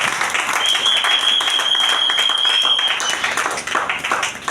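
Loud church congregation applauding and cheering at a resurrection service, dense sustained clapping with a high whistle running through the middle, close and full, fading slightly toward the end.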